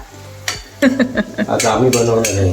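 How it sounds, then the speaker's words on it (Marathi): Garlic fries in hot oil in a home kitchen pan, a close sizzle punctuated by sharp clinks and scrapes of a metal spoon stirring, with some background voices. "एक ते दीड पळी तेल टाकलं आणि लसूण परतून घेते"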